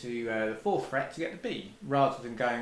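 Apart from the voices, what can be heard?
No distinct noise like a dog, phone or traffic.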